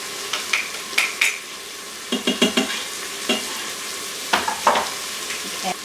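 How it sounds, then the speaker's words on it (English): Beef pot roast browning inside an Instant Pot is stirred, producing bursts of scraping and clinking from the utensil against the pot over a low steady sizzle, close by and irregular. "Okay, I'm going to give all that a little stir. Browning so nicely"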